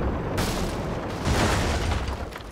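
Explosive barrels blowing up in the video game Lies of P, a loud sustained burst of booming blasts lasting a couple of seconds, with no talk over it.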